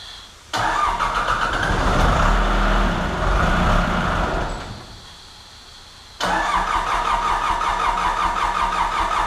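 A Case 1845C skid steer engine cranks and fires up with a loud mechanical rattle, dips briefly, then catches again and settles into a steady diesel idle close by.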